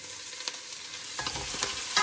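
Meat and pork fat fry in a pan with a little added oil, a steady loud sizzle with stirring scrapes and crackles throughout, no voices.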